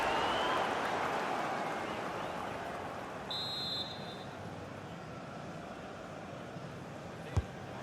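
Stadium crowd in a FIFA 23 Premier League match, Everton against Brighton, giving off a steady, dense roar of applause and murmur throughout, with a single sharp thud near the end.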